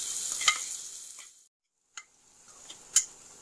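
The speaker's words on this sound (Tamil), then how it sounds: "இப்போ கட் பண்ணி வச்சுருக்க வெங்காயத்தை அதில் சேர்த்துப்போம். நல்லா செவக்கிற லெவலுக்கு வதக்கிக்கிங்க." Chopped onions sautéing in a pan for bread masala bajji, a soft frying hiss with a few sharp utensil taps against the pan, dropping to near silence briefly before quieter stirring resumes.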